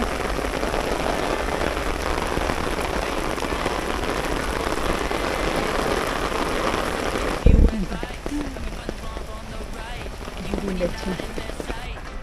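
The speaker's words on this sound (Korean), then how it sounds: "비 너무 많이 와" Heavy rain pours on an urban ecological park in Seoul, a dense, continuous patter of drops on surfaces and rain gear, loud and close throughout, with one sharp bump partway through.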